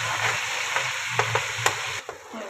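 Ginger garlic paste fries in a pan, giving a steady broadband sizzle with a few sharp clicks and crackles, ending in a brief softer patch.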